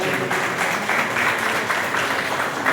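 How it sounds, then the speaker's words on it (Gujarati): Audience applause at a gathering held to welcome and honour guests at a free homeopathic treatment event for children with disabilities; steady, dense clapping fills the room at moderate volume throughout, with no clear voices on top. "સાહેબ માટે તો ખાસ તાળીઓ"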